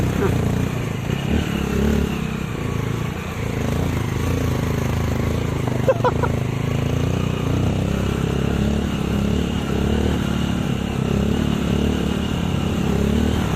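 A motorcycle engine runs steadily throughout, a continuous low rumble close by, with people talking over it.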